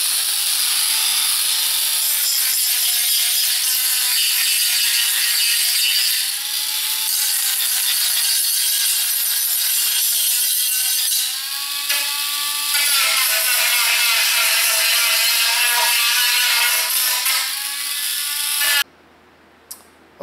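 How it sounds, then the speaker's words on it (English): Power tool roughening the epoxy hull surface of an Ohio-class RC submarine model, a loud continuous buzzing grind with wavering pitch that stops abruptly near the end. "which is going to remove or roughen up that surface of the epoxy hull and allow a layer of epoxy cloth to stick on there"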